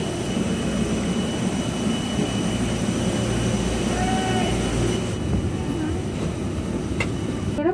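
Steady loud jet engine roar from an airliner while passengers board a flight to Delhi, a continuous dense drone with a brief faint tone and clicks near the middle.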